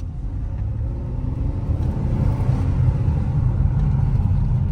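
A 2014 Ford Taurus SHO with AWD and a turbocharged engine pulls hard, giving a steady, loud low rumble that builds slightly as it accelerates, heard from inside the car.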